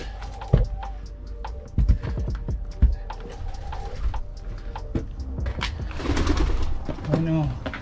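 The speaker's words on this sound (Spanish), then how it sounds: "Bueno, un montón de palomas." Pigeons inside a fire-damaged palace give low, soft coos and wing flutters through a reverberant, hollow space, with scattered knocks and someone speaking over parts of it.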